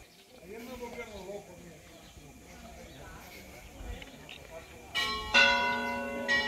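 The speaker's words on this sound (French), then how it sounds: "Ah bah voilà, on a les cloches." Church bells ring out loudly near the end, rich sustained tones after quieter ambient sounds and a voice earlier on.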